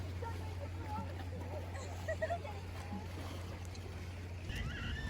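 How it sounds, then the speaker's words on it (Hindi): Soft, steady flowing water near a centuries-old heritage house in Canada, a faint continuous wash under a low hum, with a few bird chirps scattered through it. "आप लोगों ने भी उम्मीद है कि पानी की आवाज़ सुनी होगी"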